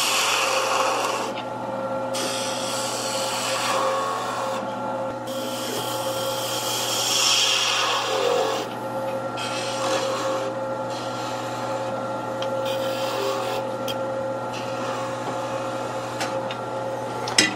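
Jet wood lathe spinning as a gouge turns a thin wooden piece down, a steady motor hum under scraping, hissing cuts that come and go in uneven passes.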